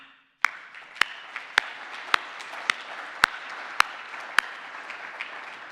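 Participants at an online global meeting clap sparsely: sharp, separate hand claps arrive roughly every half second over a soft background hiss, with no crowd roar behind them.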